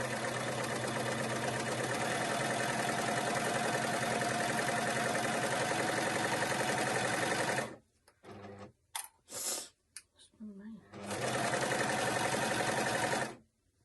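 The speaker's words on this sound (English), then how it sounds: "we're going to go back to the machine now to stitch that up" Sewing machine stitching the crotch seam of pajama shorts: a loud, close, steady mechanical whirr for several seconds, then a pause with small handling sounds before the machine starts stitching again.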